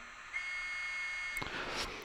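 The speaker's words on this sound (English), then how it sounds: "das ist Alarm, ja, wie immer. SIFA, Alarm, Alarm." A SIFA alarm buzzer sounds on a Fleischmann ICE class 411 electric multiple unit model train with DCC sound, a steady electronic tone held for over a second, then cut off into brief mechanical clicks and noise.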